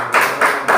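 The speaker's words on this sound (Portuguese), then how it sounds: "e as palmas para Jesus" A church congregation claps for Jesus during a sermon, giving three quick, loud bursts of handclaps in a steady rhythm, close by and with no talking.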